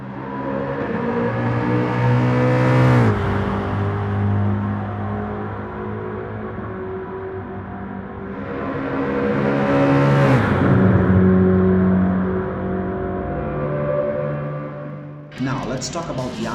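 A Mustang race car in a racing video game roars loudly and continuously, its engine note climbing through revs and dropping with two sharp gear shifts before cutting abruptly near the end.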